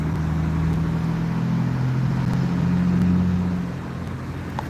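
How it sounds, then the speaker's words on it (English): A big bus rolls past on a city street near sunrise, its low engine drone steady and fairly close for several seconds before easing off slightly toward the end. "Oh, here goes one of the big buses."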